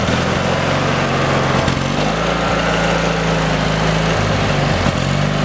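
Craftsman lawn tractor engine running steadily up close, a loud continuous low drone with slight shifts in pitch and no speech.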